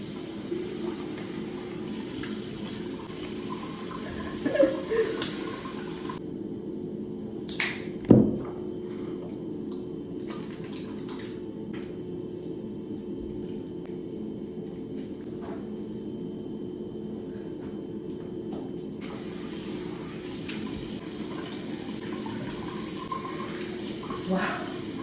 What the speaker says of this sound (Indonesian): Mama cuci muka dulu dengan ini.